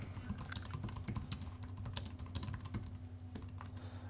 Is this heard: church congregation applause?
no